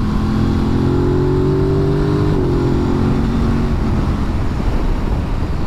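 An Aprilia RS660 mid-sized twin motorcycle engine revs up loudly nearby, its pitch climbing, holding, then dropping back over a continuous engine drone.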